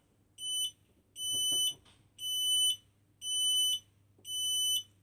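A Finsécur Celtic emergency lighting control unit sounds its buzzer test: five evenly spaced, loud electronic beeps, each about half a second long, with brief handling clicks between them in a quiet room.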